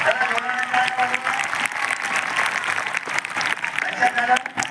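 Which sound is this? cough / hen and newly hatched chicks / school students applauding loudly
school students applauding loudly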